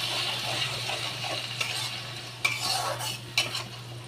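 Spice paste with tomato paste stirred into a hot pan for a potato and pointed gourd curry, a steady sizzle broken by several sharp clinks of a utensil against the pan.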